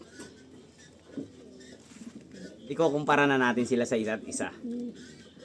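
Someone speaks softly while a pigeon coos nearby in low, warbling throaty calls that rise over his voice and continue under the talk.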